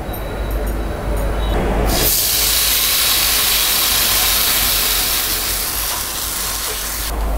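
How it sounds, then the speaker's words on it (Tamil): Wheat vegetable dosa batter hits an oiled hot griddle and breaks into a loud, steady sizzle and hiss that runs unbroken to the end, close to the pan, with no talking. "இப்போ தோசை ஊற்றிக்கலாம்."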